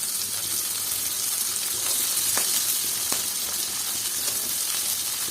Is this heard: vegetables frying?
yes